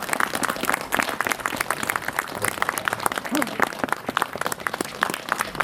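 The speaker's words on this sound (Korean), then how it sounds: "큰 박수로 환영합니다." Audience applause at a memorial hall opening ceremony, loud sustained clapping from a crowd that carries through the whole stretch.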